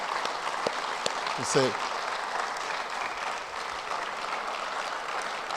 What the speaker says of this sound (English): So I'd like us to give him a round of applause.